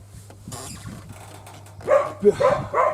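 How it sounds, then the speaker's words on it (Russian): A dog barks at a workshop where a homemade all-terrain vehicle with a Lifan 18 hp engine is being shown, a few close, loud barks in quick succession after a quiet hum. "Блин, собака лает, блин."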